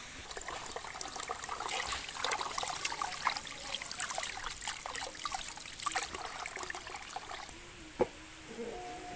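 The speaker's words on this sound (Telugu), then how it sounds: "ఇంకోండి బియ్యాన్ని వాష్ చేసుకోవాలి" Rice is washed in water for a village-style vegetable biryani, a steady soft trickle and swish of water stirred by hand, fairly faint and close, with a single sharper clink near the end.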